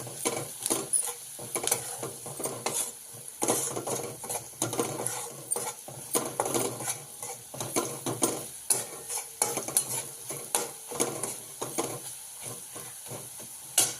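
Spices such as red chili powder, salt, turmeric and garam masala are stirred into onions frying in oil, making repeated rhythmic scraping strokes over a continuous close sizzle.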